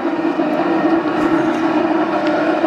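A steady, rough mechanical drone of a Monarch lathe motor running with a bad bearing, a grinding, uneven hum, continuous and close, with no talking.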